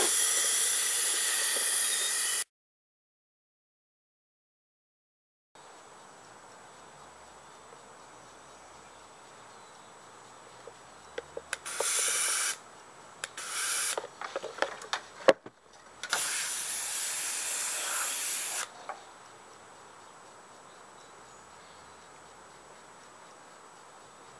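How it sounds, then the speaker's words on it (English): An airbrush gun sprays in long hissing bursts while being flushed clean, with a sustained spray at the start, short choppy spurts in the middle and another steady burst near the end, separated by quiet gaps. "Keep spraying until it comes out clean."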